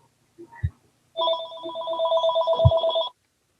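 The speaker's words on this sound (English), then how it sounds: "Pardon me, I have a phone call I need to take." An electronic telephone ringtone trills in a single burst of about two seconds, loud and close, with a couple of soft knocks around it in an online meeting.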